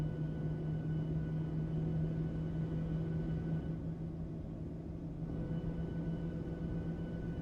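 Airliner engines in a flight simulator game produce a low, steady, fairly quiet rumble with a constant whining tone, holding even throughout with no talking.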